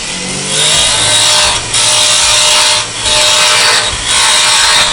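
A woodturning tool cuts steadily through a wooden tenon spinning on a lathe, a loud, continuous rasping scrape with brief dips in between passes, close up and with no talking.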